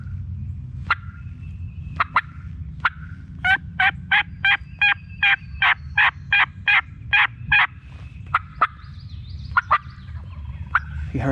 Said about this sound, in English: a turkey has gobbled in front of us